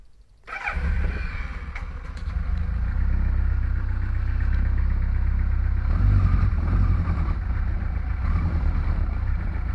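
KZ kart motor 112 firing up from cold, catching after a brief silence and then running steadily at a loud, close, throbbing idle with slight swells in revs.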